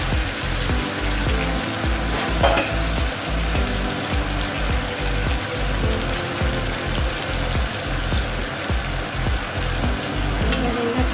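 Crab curry masala sautéing in a hot pan, a dense, steady sizzle and crackle that runs loud and unbroken throughout, with faint stirring scrapes beneath.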